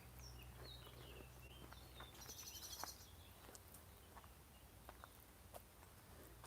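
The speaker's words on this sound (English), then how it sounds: "the birds are really singing loud." Birds chirp and call in scattered bursts during an outdoor walk past old buildings, faint and fairly distant over a low background hum, with occasional footstep-like thuds.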